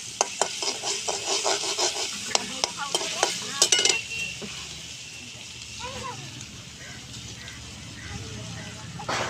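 Food frying in a pan stirred vigorously: rhythmic scraping strokes with sharp clinks over a low sizzle, then quieter frying as a person talks.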